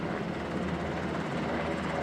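A helicopter in aerial news footage gives a continuous, steady rotor and engine drone, moderately loud and close, with no voices over it.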